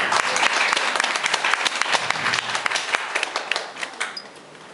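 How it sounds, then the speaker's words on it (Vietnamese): Church congregation clapping together in thanks to God during a sermon, a dense sustained round of applause filling the room, loud and steady before thinning slightly at the end. "chúng ta amen ta vỗ tay cảm ơn Chúa này"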